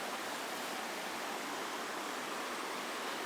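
A river crossing on a trek along the railway tracks toward Machu Picchu, its water flowing in a steady, broad rushing hiss that stays constant throughout with no talking.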